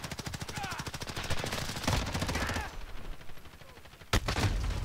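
Rapid automatic gunfire from a weapon fitted with attachments in Call of Duty: Modern Warfare, long fast bursts of close shots, then a pause and one more loud sharp burst near the end.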